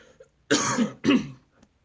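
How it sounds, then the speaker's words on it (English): Two harsh coughs in quick succession, loud and close, with quiet before and after. "Sorry, I had to cough."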